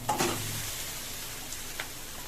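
Cooked chana dal tipped into a hot kadhai gives a brief soft sizzle and stirring scrape at the start, then settles into a faint, steady background hiss.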